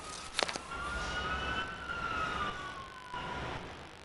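A wailing ambulance siren passes outside, faint and distant, rising and falling in pitch under a quiet room with a few brief knocks.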